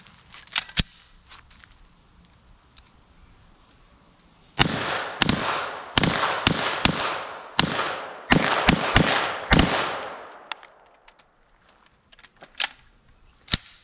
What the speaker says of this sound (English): let's send some more rounds downrange